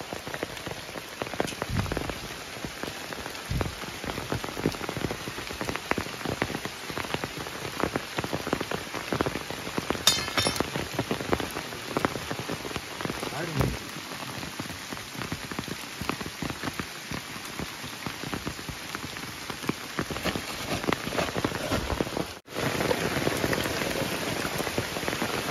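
Steady monsoon rain pours down in a Konkan village, a dense continuous patter of drops drumming on surfaces close by, loud and unbroken throughout with no voices.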